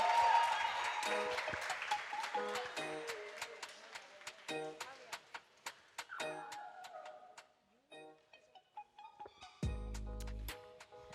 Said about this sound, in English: Keep the applause going, man. Keep the applause going.